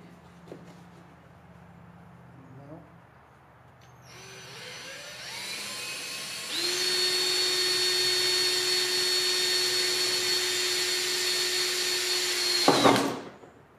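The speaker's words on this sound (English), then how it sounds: "start drilling some holes" A power drill winds up and runs steadily at high speed for several seconds, drilling holes in plastic on a 1995 Suzuki KingQuad 300 ATV, its whine rising in pitch before cutting off sharply, close by.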